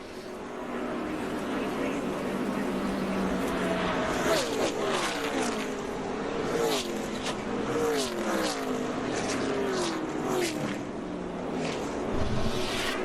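Trevor Bayne's race car at the 2011 Aaron's 312, heard from onboard as a steady high-revving engine drone with rising and falling pitch sweeps, under a commentator's voice.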